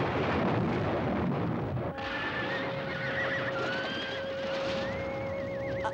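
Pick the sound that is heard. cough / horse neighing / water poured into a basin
horse neighing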